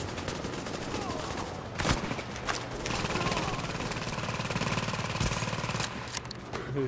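Gunfire crackles through The Division's dark zone, with several short bursts and broadband impacts, strongest around the two- and six-second marks, over a continuous game background.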